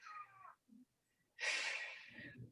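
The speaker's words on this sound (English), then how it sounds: "That was my cat." A house cat gives a few short meows and a breathy, wheezy cry, separated by brief silences, fairly close and quiet, with no one talking over it.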